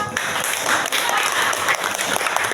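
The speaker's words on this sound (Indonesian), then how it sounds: "Tepuk tangan buat kelompok." Short round of classroom applause for a student group, many hands clapping steadily and fairly loud, with faint voices underneath.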